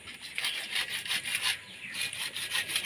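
Material is cut to size with a hand saw in quick back-and-forth strokes, a rhythmic rasping close by and alone.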